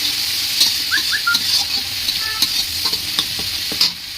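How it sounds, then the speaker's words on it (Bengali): Garlic frying in a hot pan, sizzling steadily while being stirred, with brief scraping clinks of a utensil against the pan throughout; no talking. "রসুনটা একটু ভাজা ভাজা হয়ে যায়।"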